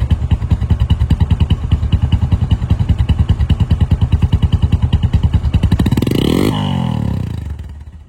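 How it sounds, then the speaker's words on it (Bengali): A Bajaj Discover 135 cc motorcycle engine idles up close with a steady, rapid thumping beat, loud and unbroken, with a brief clatter near the end as the tone shifts. "আমার শুধু স্টার্ট দিয়ে মনে হচ্ছে সাউন্ডটা সারা রাত শুনি, এই বাইকটির সাউন্ডটা আমি মনে করি সারা রাত শুনি"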